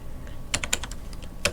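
Fingers type on a computer keyboard in a few light, irregular taps, close and fairly quiet, with no talking.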